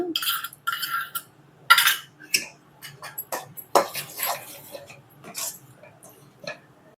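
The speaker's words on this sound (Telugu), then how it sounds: "టూ టేబుల్ స్పూన్ నెయ్యి వేసుకొని మిక్స్ చేసుకోవాలి" Semolina kesari with milk and ghee being stirred in a pan, a utensil scraping and clinking against the metal in irregular bursts, fairly close with short pauses between strokes.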